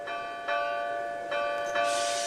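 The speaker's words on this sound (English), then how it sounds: "The wind blew gently, and the bell chimed sweetly." A bell caught in a tree rings as the wind sways it, giving three clear chimes about a second apart with long sustained tones. A brighter, airier swell rises near the end.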